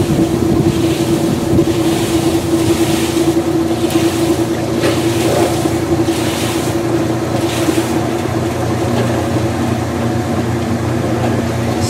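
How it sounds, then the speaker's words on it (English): A Kenmore 80 Series washing machine going into spin gives a steady, loud mechanical drone and hum that carries on without a break, heard up close with no speech. "And in a moment, it will stop and go into spin."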